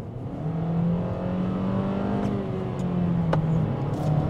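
A Kia Cerato engine roars steadily as the car accelerates, a loud continuous drone with rising tones heard from inside the cabin.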